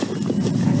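A donkey shifts about on its hooves at a ranch, giving a few soft, close clops under a steady low background rumble.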